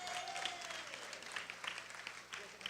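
Clapping rises from an audience at a senior day gathering in Brooklyn, a fairly quiet, scattered patter of hands heard at some distance, with a faint voice and background murmur underneath.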